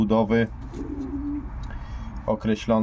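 Pigeons cooing in a pigeon loft, with several close, soft throaty coos in bursts at the start and end and a quieter murmuring call between them.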